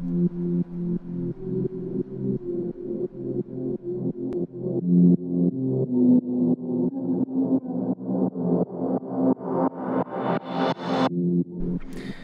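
A buzzy synth pattern pulses in steady repeated notes while a filter sweeps open, brightening toward the end before cutting off abruptly.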